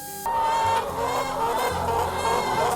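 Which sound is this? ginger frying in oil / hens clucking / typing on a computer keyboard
hens clucking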